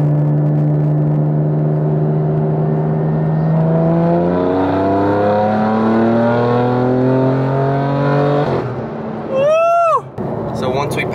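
BMW M4 running E85, roughly 600 hp, pulling hard in fourth gear from about 50: a loud, steady engine note climbing in pitch for several seconds, then a sudden lift-off with a short sharp squeal near the end.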